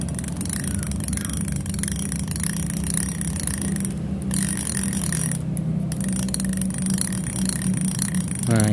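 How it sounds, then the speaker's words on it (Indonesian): An upgraded baitcasting fishing reel's drag clicker ratchets in a steady, rapid stream of close mechanical clicks, loud and continuous with no voices. "bunyi drag clickernya ya"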